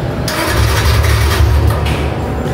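A motorbike left unused for 40 days is cranked and its engine turns over loudly and close by, a steady mechanical churn lasting a couple of seconds without settling into a clean idle.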